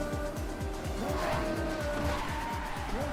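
A new Rocket League car, the Remik GXT, drives in a video game trailer, with a steady loud engine whine and repeated pulsing revs alongside screeching tires and some music.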